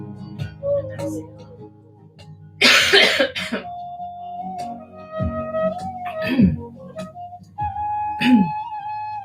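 A woman coughs several times during a Kundalini yoga chanting session, sharp harsh bursts with throat clearing between, close and loud, interleaved with her sustained chanting tones.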